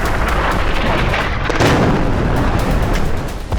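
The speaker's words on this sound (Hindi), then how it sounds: "सही लोकेशन मिलने के बाद हानिया पर जबरदस्त मिसाइल हमला हुआ।" A missile strike explosion rolls out as a dense, sustained rumbling blast, loud and close, with booming bursts layered through a thick roar that fades slightly at the end.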